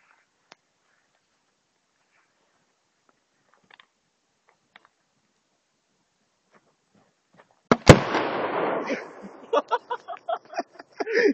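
A bottle explodes outdoors in a forest as one sharp, loud bang after long near-silence, followed by scattered patter and rustling of debris and brief voices.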